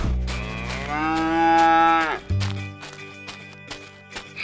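A cow lets out one long, loud, tonal moo that rises and then cuts off, followed by light rhythmic tapping sounds in a toy farm animal scene.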